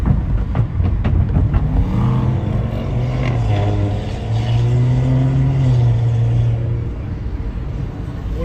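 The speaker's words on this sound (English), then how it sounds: "What is that, a diesel Beamer?" A diesel BMW car rumbles past on the Las Vegas Strip at evening, its engine note swelling loud and close before fading away amid street noise, with a voice speaking briefly.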